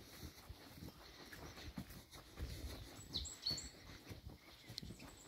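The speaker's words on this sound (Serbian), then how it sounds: "Jes lijepo čut ove ptice kako crkuću." Birds chirp outdoors in the countryside near water and beech trees, a few brief, faint calls over a low, rumbling background.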